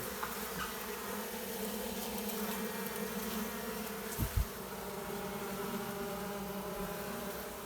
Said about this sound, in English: Got a lot of bees piling up in the corners here